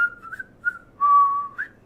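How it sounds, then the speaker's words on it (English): A person whistles a short, clear tune of a few brief notes and one longer held tone, close and alone. "I know how to traditionally whistle"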